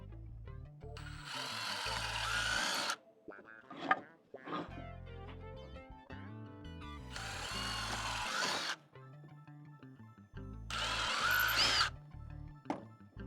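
A power drill bores into the wood of a DIY planter box in three separate loud whirring bursts, with clunks and handling noises of boards in the gaps between them.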